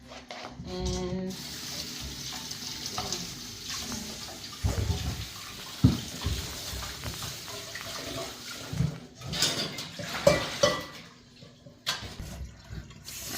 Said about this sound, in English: this is the eggplant that I'm going to use. We're going to wash it